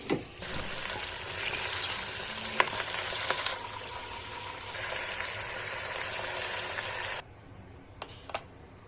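Tomatoes fry in a pan for a tadka, sizzling steadily and close by with faint stirring clicks, before the sizzle drops to a quieter hiss near the end.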